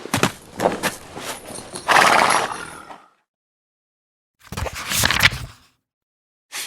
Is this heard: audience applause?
no